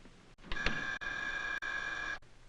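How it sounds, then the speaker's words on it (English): Kitchen timer for a meatloaf going off with a steady, shrill electronic ring that runs for about two seconds without a break, at moderate volume, with no talk. "That's the meatloaf timer."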